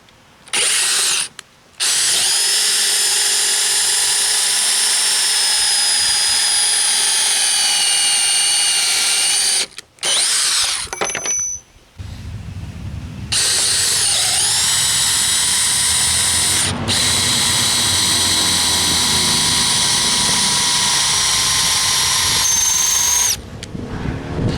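A DeWalt Xtreme 12V subcompact drill strains while driving a big drill bit, its high motor whine running in long close bursts broken by short stops, then a lower grinding load as the bit bites.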